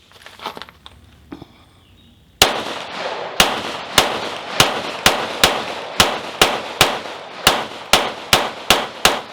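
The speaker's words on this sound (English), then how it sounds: "We're going to rapid fire about 20 rounds to it and see if we can get the hang up." A Smith & Wesson M&P 22 Magnum rifle fires about fifteen sharp cracking shots in quick succession at a target 100 yards away, after a quiet, faintly rustling lead-in.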